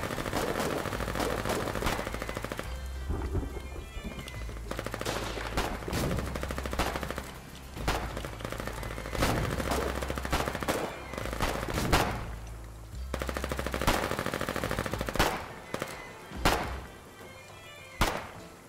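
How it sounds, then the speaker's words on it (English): Submachine gun fire in the video game Foxhole, with repeated short bursts and single sharp shots in uneven clusters, loud and close, with occasional quieter gaps between volleys. "Dude, SMGs feel really good to use."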